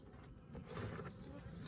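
Honey bees buzz softly around a hive in a bee yard, a continuous low hum that stays faint and even throughout.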